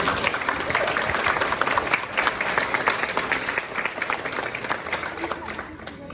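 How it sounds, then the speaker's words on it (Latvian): An audience at a Latvian community award ceremony in Ireland applauds an honoree, a crowd clapping steadily in a warm hall with a slight crowd murmur, the applause thinning toward the end. "Lieli aplausi"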